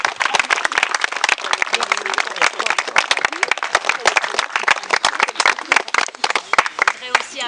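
Audience at a centenary ceremony applauding, a dense burst of many hands clapping continuously at close to moderate distance, thinning slightly near the end.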